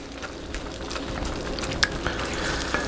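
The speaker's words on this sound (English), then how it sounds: "of shredded sharp cheddar cheese. Give that a stir in here." Shredded sharp cheddar being stirred into a mac and cheese sauce in a pot, giving a steady soft bubbling hiss with a few light scrapes and clicks of the spoon, close and alone.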